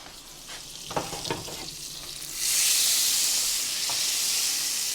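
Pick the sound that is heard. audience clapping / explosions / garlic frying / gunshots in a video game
garlic frying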